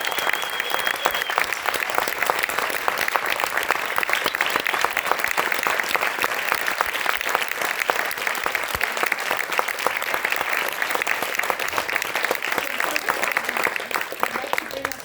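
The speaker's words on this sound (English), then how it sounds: "I would love for us to give them another hands of applause" A crowd at a documentary screening talkback gives filmmakers and film participants sustained, dense applause that holds steady for about fifteen seconds before tapering slightly at the end.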